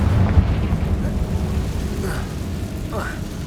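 Confringo fire spell going off in Hogwarts Legacy, a booming burst at the start with a rumbling tail and a couple of short whooshing spell sounds afterward, loud and close.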